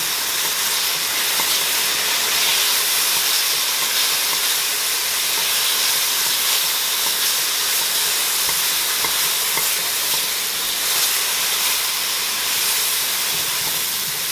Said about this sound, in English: keep stirring this because otherwise things could stick or burn